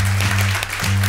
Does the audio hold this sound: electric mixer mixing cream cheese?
no